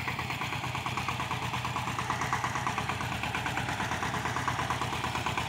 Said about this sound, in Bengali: সে একটু ট্রাক্টর চালাবে